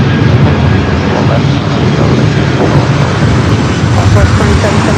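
An airliner takes off at Los Angeles International Airport, its engines a steady, loud broadband roar that holds evenly throughout, with no talk over it.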